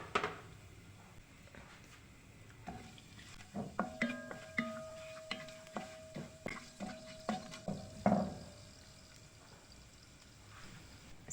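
Cumin and garam masala hit hot oil in a pan for a vegetable pulao, giving a low sizzle under a series of sharp spoon scrapes and clinks against the pot that grow busier in the middle, with no talking.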